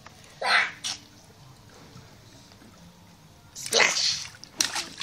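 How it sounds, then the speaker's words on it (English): A small child splashes water in a backyard pool, two short bursts of splashing, one early and a louder flurry near the end, with quieter sloshing between and adult voices chatting nearby. "Splash!"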